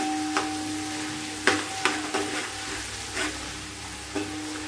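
Green chillies fry in an oiled pan, giving a steady hiss with intermittent stirring scrapes from a spatula, close and moderately loud over a faint background hum.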